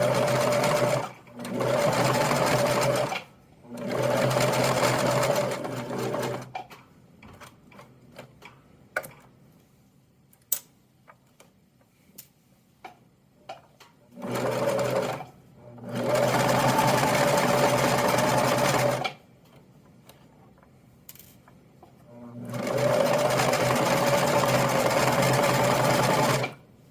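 A sewing machine stitches over elastic for a punch needle coffee sleeve in several loud bursts of rapid whirring, separated by quiet pauses with faint ticks and handling clicks.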